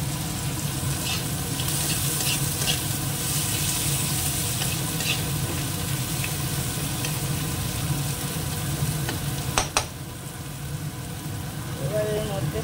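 Chopped onion fries in a pan with a dense, continuous sizzle, close and loud, while a person talks over it and a brief clatter interrupts near the end.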